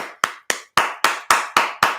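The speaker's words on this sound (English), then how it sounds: "Everybody give Jennifer a round of applause" Eight sharp, evenly spaced hand claps in a steady rhythm, close and clear, as a brief round of applause for a woman named Jennifer.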